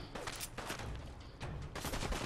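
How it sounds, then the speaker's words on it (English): Enemies in Fallout 4 fire at the player in repeated gunshot bursts, moderately quiet and somewhat distant, a scattered volley stretching over a couple of seconds. "Who's shooting me?"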